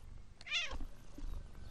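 A single short meow from a house cat, close and fairly soft, rising and falling once over a quiet indoor background.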